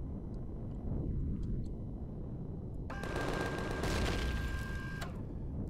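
Gunfire in the space survival game Empyrion, aimed at a block covering a ship's core: a sustained burst of rapid shots for about two seconds, loud and close, with a steady electronic tone beneath and quieter game ambience before and after.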